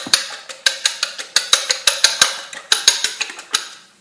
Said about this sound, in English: We're going to take our eggs, beat them up really quickly.